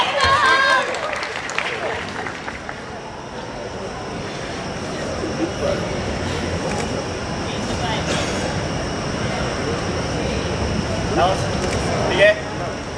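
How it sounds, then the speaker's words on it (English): An audience applauds powerlifter Kelli Clarke at the Pacific Challenge 2014 IPF deadlift competition, a steady wash of clapping that holds through the clip, with an announcer's voice at the start. "Give a round of applause for Kelli Clarke."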